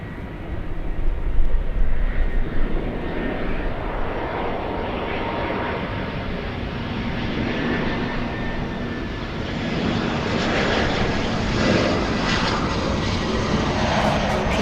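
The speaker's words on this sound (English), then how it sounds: "Let's go over to the JetBlue, heading to the runway." A JetBlue airliner taxiing toward the runway at LAX gives off a loud, continuous jet engine roar that swells slightly early on and holds steady throughout, with a faint whine on top.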